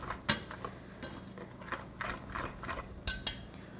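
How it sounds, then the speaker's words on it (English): A whisk clicks and scrapes through a dry mix of rice flour, cornstarch, flour, salt and pepper in a bowl, giving faint, irregular light taps and rattles close by. "Mix with whisk."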